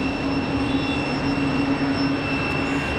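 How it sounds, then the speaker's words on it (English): A United Boeing 737-900 jet idling at the runway end at Raleigh Durham airport, a steady loud engine drone with a sustained whine, unbroken and without voices. "That's 737-900 off to Chicago O'Hare"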